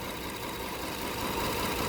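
A Toyota Kluger V6 3FE engine idling with a misfire under diagnosis, heard as a steady, dense mechanical drone with a loud close-up rumble and no talking.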